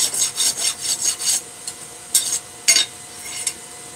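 Fine side of a rasp filing metal in steady back-and-forth strokes, a dry scratchy rasp repeated in a quick rhythm and then a few slower separate passes, close and moderately loud with no talking.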